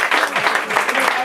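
A short burst of clapping from an audience at a Valencian comedy show, dense and close, lasting only a moment with voices mixed in.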